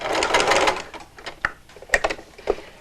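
A home sewing machine stitches an elastic loop onto a fabric face mask, a dense mechanical whir at first that breaks into a few sparse clicks and short bursts as the fabric is repositioned.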